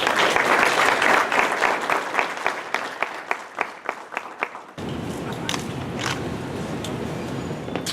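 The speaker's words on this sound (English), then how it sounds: "Please give a hand, please, a round of applause for Pastor Joshua Swilley." An audience applauds a pastor at a church talk event, loud sustained clapping that thins into scattered individual claps before broader crowd noise continues.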